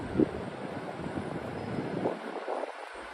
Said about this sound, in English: It's crazy, crazy windy tonight.